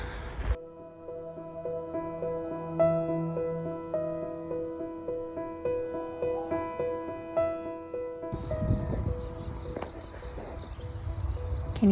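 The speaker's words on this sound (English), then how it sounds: "Can you hear the crickets?" Crickets chirp in steady, rhythmic pulses on a morning outside a château, heard from a second-floor window. The chirping is moderately loud and continuous, and a rougher broadband noise enters near the end.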